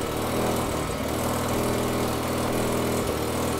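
Rebuilt big-turbo Mazda RX7 rotary engine running with the exhaust flap open, a loud steady buzzing drone held close and continuous throughout, with no talk.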